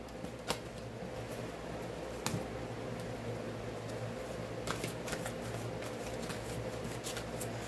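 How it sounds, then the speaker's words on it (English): Oracle cards are shuffled and drawn by hand, a soft close riffling with sharp card snaps and taps over a faint steady hum. "let's go ahead and draw a psychic reading card"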